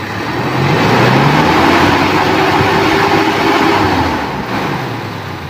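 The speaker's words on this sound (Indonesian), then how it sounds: "saya akan menahan gas tinggi ya" A Toyota Kijang with a 7K engine and a faulty emission control module, held at high revs: a loud, sustained engine drone with a slowly rising and falling pitch, then easing slightly near the end.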